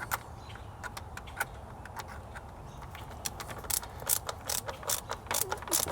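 Ratchet tightening wiring connections on an OBS Chevy Tahoe, a series of close, crisp clicking strokes that start sparse and grow quicker and louder toward the end, with no talk over them.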